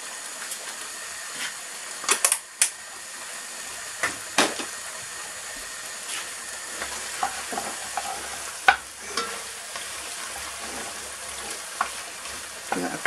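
A beef stroganoff mixture is stirred in a frying pan, with a spoon scraping and knocking against the pan in irregular strokes over a soft steady sizzle. No one speaks.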